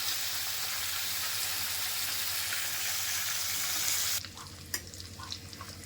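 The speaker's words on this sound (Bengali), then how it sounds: "এবার মাছটা ছেড়ে দিলাম, তেলটা গরম হয়ে গেছে।" Big prawns sizzle loudly in hot oil with a dense, steady crackle that cuts off abruptly after about four seconds, leaving only faint clinks and quiet kitchen noise.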